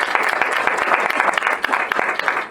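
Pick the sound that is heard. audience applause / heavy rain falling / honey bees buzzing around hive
audience applause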